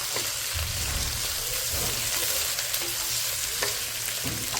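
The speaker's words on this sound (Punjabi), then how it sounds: "ਹੁਣ ਸਭ ਤੋਂ ਪਹਿਲਾਂ ਮੈਂ ਭਿੰਡੀ ਪਾਉਂਗੀ" Okra sizzles loudly in a hot pan while being stirred, with a continuous frying hiss and repeated scraping knocks of the utensil, close and steady throughout, and no talking.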